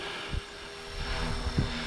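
A Blade 330S radio-controlled helicopter flies nearby, its rotor giving a steady high whine with faint thumps over light background noise, no talking.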